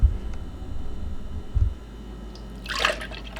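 Silk almond milk pours into a container as a quiet liquid trickle and splash, with a brief brighter gush near the end.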